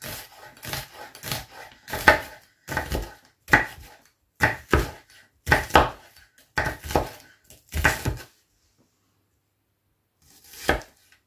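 A knife slices an onion on a board for a tomato tarte tatin, with a dozen or so close, crisp chopping bursts in an uneven rhythm, a pause, then one last cut, and no talk.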